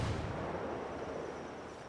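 Grenade blast in a video game, a single deep booming explosion that rolls off into a fading rumble, fairly quiet overall.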